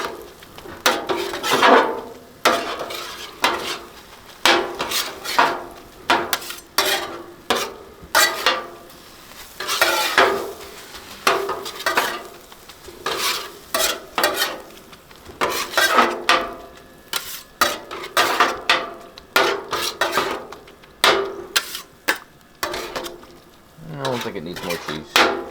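Metal spatula chopping cheesesteak meat on a hot backyard griddle, a steady run of sharp scraping clacks and taps over a constant sizzle, close and loud.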